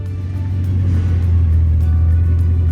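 The Bugatti Centodieci, with its 8.0-liter quad-turbocharged W16 engine, gives off a loud, deep engine rumble that builds in a sustained rev, heard close up with no talking.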